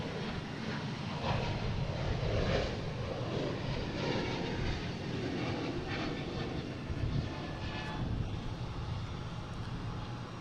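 A United Airbus A321neo airliner departs Boston Logan for Chicago, its engines producing a steady broadband roar with gusty wind noise across the microphone, sustained for the full ten seconds at moderate distance.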